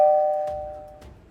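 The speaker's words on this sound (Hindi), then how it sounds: "घंटी बज रही है, लगता है दूध वाला आ गया।" A household doorbell in a home gives two quick chimes: a clear ringing tone that fades, then a second softer strike a moment later, with no voices.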